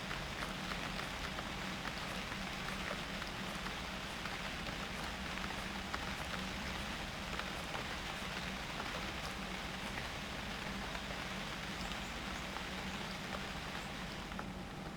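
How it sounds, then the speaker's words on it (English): Steady rain falls in the wilderness survival game UnReal World, a continuous, even hiss of drops that stays soft and unbroken from start to finish, with no talking. "Wish it weren't raining."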